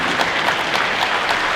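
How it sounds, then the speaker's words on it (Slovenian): Audience applause at a diploma ceremony at a Slovenian higher vocational school, a steady wash of clapping from a crowd, close and fairly loud, with no talking over it. "Dajte en aplavz"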